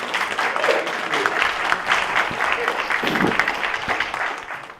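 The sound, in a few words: audience applause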